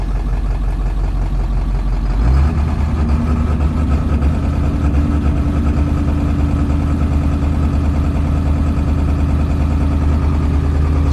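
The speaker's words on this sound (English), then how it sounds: "Let's see it in high idle now" Truck engine heard from inside the cab with the windows up, settling from a lower idle into a steady, louder high idle after a couple of seconds, a constant deep droning rumble with no talk.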